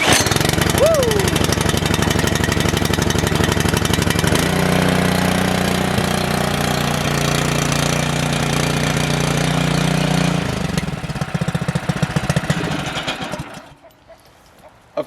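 A freshly fuelled engine on a Champion 19-inch rear-tine rototiller runs loud and near, a rough, steady mid-pitched chugging that shifts in tone partway through, then fades and cuts off near the end.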